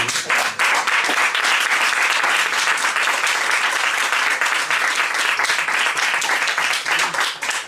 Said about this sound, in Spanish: Y un aplauso para él, que es el protagonista.